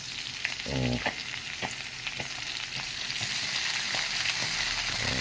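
Corned beef (carne norte) with potatoes sizzles and fries steadily in a pan, with a brief louder stir or scrape near the start and occasional soft clicks of a utensil against the pan, close and continuous.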